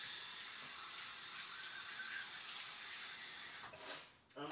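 Cold tap water runs steadily into a bowl of cut potatoes in a home kitchen, a constant close hiss that stops abruptly near the end.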